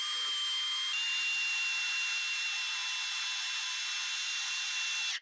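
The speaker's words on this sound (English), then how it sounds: "I feel the tip of the drill poking through the other side." A power drill whines steadily as it bores through a timber frame beam, a continuous high grinding hum that cuts off abruptly at the end.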